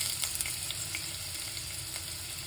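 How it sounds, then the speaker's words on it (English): Red onion hitting very hot oil and frying, a steady dense hiss and crackle of sizzling that holds evenly throughout, close and alone with no talking. "now that oil is very hot, but let's put this in it."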